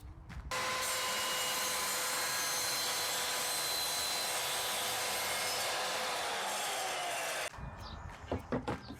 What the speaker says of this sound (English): I'm going to use my chop saw to make these cuts